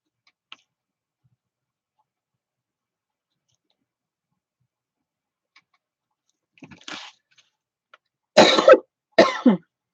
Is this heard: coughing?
yes